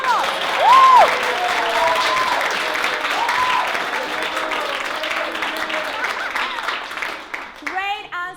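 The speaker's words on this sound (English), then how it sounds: "give a big round of applause" A crowd applauds loudly with cheering and whoops, sustained clapping that fades slightly before a voice speaks briefly at the end.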